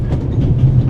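A moving train in The Raven Remastered video game rumbles in a loud, continuous low roll with faint rhythmic clatter, heard briefly and alone.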